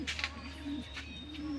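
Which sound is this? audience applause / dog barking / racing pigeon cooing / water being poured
racing pigeon cooing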